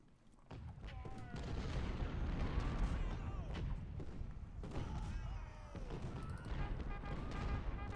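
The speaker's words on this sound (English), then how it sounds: "we're going to be dealing with a lot of artillery fire for a little bit up here" Artillery fire in the Civil War strategy game Ultimate General: Civil War, with heavy, continuous booming cannon fire and gunfire rumbling across the battlefield, dense and sustained throughout.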